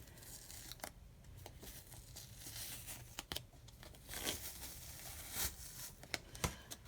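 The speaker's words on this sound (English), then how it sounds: "I'm just going to slowly peel it up" Blue masking tape peeled slowly off a baseball cap, giving faint, intermittent crackling and tearing bursts with sharp little snaps scattered across a quiet background.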